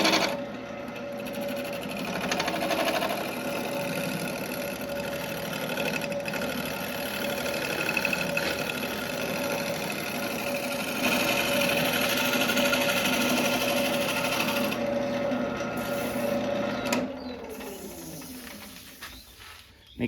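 A wood lathe spins a cherry bowl while a scraper held at a shearing angle cleans its surface, giving a steady motor whine with a faint scraping texture that cuts off near the end.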